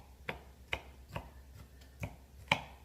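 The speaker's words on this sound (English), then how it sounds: "Chopping up the tops of the peppers" A knife chops through the tops of bell peppers on a cutting board, giving five sharp, evenly spaced thunks about half a second apart, close by and fairly quiet.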